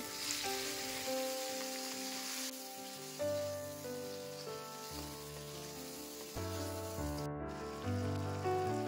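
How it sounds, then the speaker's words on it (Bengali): Prawns sizzle in hot oil left over from frying potatoes for potol chingri, cooked gently over a low flame. A soft, steady frying hiss runs beneath louder background music. "তখন আলুগুলো তুলে নিয়ে ওই তেলে চিংড়ি মাছগুলো দিয়ে দেব"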